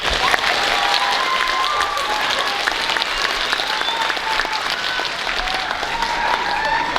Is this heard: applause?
yes